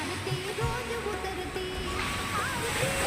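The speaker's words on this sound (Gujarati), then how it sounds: "એટલે બહુ ખતરનાક મોજા ઉછળી રહ્યા છે" Rough sea waves surge and splash along the shore near Somnath temple, a steady close wash of surf filling the whole stretch, with faint voices in the background.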